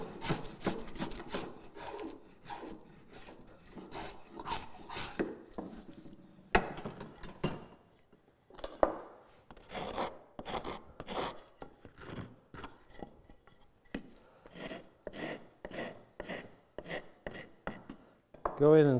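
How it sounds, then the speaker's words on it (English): A spokeshave shapes a wooden part for a frame saw, repeated close rasping strokes in irregular bursts with short pauses between them, loud and crisp against a quiet workshop. "Spoke shave."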